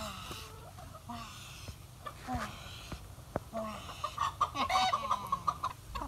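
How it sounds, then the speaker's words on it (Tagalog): Chickens clucking nearby in short repeated bursts, growing busier toward the end, with a few sharp knocks in between. "Tambok sini nga manok."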